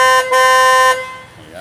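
A loud, steady car horn on a 2019 MG ZS with a faulty, chirping horn blares with one brief break, then cuts off, leaving quieter background noise.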